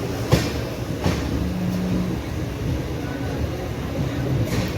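The Shirdi–Howrah Superfast Express 22893 rolls into Bilaspur station with a steady rumble of wheels and carriages, punctuated by a few sharp rail clicks and a brief squealing tone, heard from on board.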